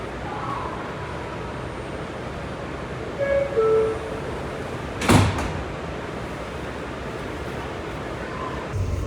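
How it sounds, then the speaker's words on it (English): Doors of an R211T walk-through subway car slide and thump shut amid a steady rumbling train hum, with a short chime shortly before the close. "Stand clear of the closing doors"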